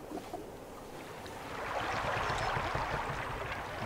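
A swan-shaped pedal boat glides through water in a horror amusement park, with soft splashing and lapping that swells steadily louder after the first second and a half.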